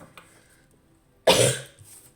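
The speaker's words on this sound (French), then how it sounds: "je vais tousser un peu" A woman gives one sharp, close cough that trails off over about half a second, following a quiet stretch with a faint earlier throat noise.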